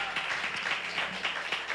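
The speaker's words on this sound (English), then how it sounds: "give another round of applause." A church congregation applauds in a dense, even patter of many hands, moderately quiet and steady throughout, with no speech over it.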